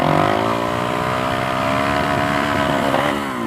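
A Suzuki DRZ 470 motorcycle engine fitted with a carburetor revs steadily through a short first-gear pull, a loud, continuous rising drone with dense harmonics that holds close for the whole stretch.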